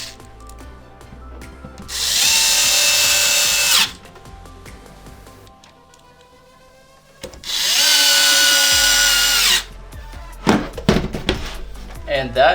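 A power screwdriver drives the last two screws into the top cover of a Microsoft Xbox One X, two close whirring bursts of about two seconds each, separated by a quiet pause and followed by light handling clicks and taps.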